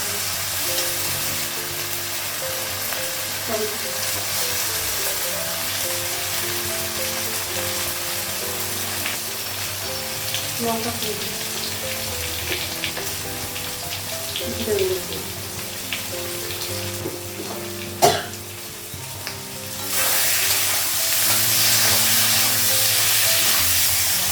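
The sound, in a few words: green chillies frying in pan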